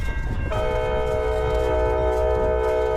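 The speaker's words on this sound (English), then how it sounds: "Standing on a little hill that gives me a great view of the train departing." An Amtrak train pulls out of Sebring station, its horn sounding a loud sustained chord from about half a second onward over a steady rumble of the moving train.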